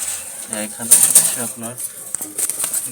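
Jalali pigeons coo in short repeated throaty phrases close by, with a few quick wing flaps and rustles in a loft, someone talking over them at moments.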